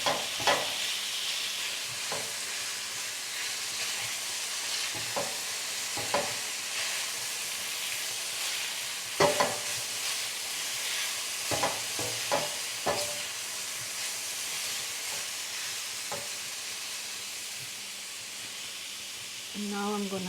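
Vegetables stir-frying in a hot pan for chicken chow mein, with a steady loud sizzle and repeated scraping knocks of a utensil tossing them, continuing alone for about twenty seconds.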